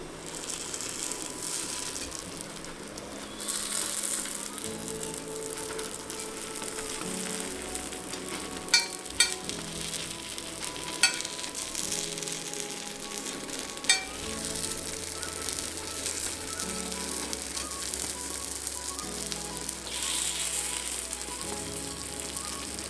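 Kuzhi paniyaram batter frying in oil in a cast paniyaram pan, a steady soft sizzle running throughout with a few light scraping clicks as the pieces are turned.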